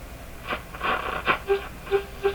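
Harsh, crackling static from a Stromberg-Carlson Model 552 radio distorting on a very strong signal, with rising noise bursts and short tonal blips repeating at a steady pace, loud and close, with no talking.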